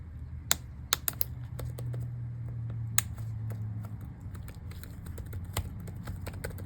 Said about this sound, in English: Let's see if it clicks.